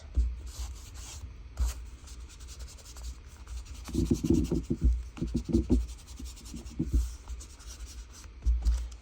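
An ink applicator rubs and scratches along paper edges to distress them for a tea-dyed junk journal, a close, dry scuffing in repeated short strokes with soft thumps, no talking.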